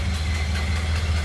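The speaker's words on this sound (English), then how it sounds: "Sounds like a Model A to me. No doubt about that. Very distinctive kind of putter at idle." A 1930 Ford Model A Deluxe Sedan engine putters at idle, a steady low rhythmic thrum close by with no voices, holding even throughout.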